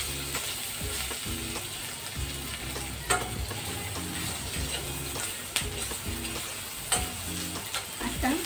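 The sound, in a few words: okra being stir-fried in a pan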